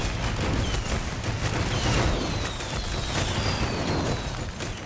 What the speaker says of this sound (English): Celebrate the apocalypse with this fireworks launching weapon that explodes on impact!